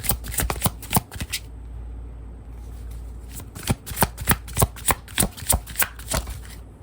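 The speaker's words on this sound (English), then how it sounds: "Let me get another card." Tarot cards being shuffled by hand during a pick-a-card reading, crisp riffling bursts and sharp card snaps, a quick flurry, a pause, then a steady run of repeated flicks, close and clear with no talk.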